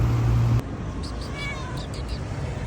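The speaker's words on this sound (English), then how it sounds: "It's the nicest ginger cats in Alexandria." Ginger street cats in Alexandria, Egypt, give several short meows at moderate distance over steady outdoor traffic and city background noise.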